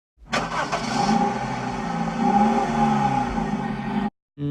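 A truck engine cranks and catches, then runs and revs as the vehicle pulls away, a continuous mid-pitched motor sound for about four seconds that cuts off sharply.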